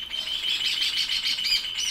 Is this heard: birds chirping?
yes